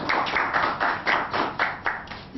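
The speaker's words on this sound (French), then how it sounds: "que je vous demande d'applaudir." An audience at an official site presentation claps in a quick, fairly even rhythm of distinct hand claps, moderately close and unaccompanied by voices.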